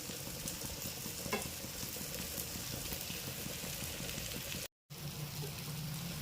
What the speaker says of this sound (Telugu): కొత్తిమీర ఇలా వేగాలండి కాసేపు